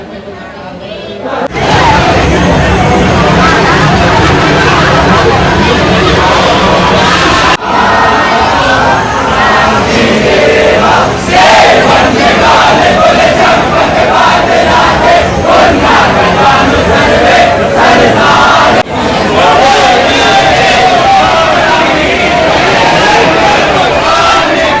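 A large, dense crowd at Anandeshwar temple in Kanpur makes a loud, continuous roar of shouting and babble that carries on throughout the clip.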